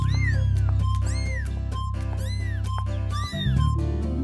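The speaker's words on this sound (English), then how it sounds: "It's a kitten." A kitten meows repeatedly, close and clear, a series of rising-falling cries over a steady low background hum.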